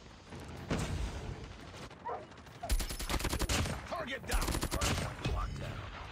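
Hip-fired LMG gunfire in a first-person shooter, with two long, loud rapid-fire bursts of automatic shots and shorter shooting around them, while a player talks between the bursts.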